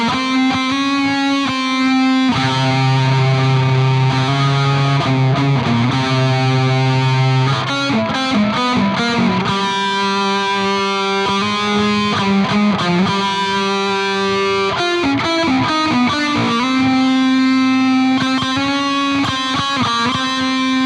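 Distorted metal lead guitar, highs rolled off and gain set a little lower, with reverb and delay trailing its notes; a loud, sustained melodic line of held tones and quick runs plays alone throughout.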